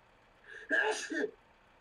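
A single sharp sneeze bursts out near the microphone, a quick two-part explosive blast over a quiet background.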